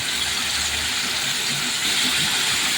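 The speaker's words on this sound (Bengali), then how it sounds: "একটু তেলের মধ্যে বেজে নিব বেশিক্ষণ না অল্প সময়" A continuous, fairly loud hiss of frying in oil holds steady throughout, with no pauses and no talking over it.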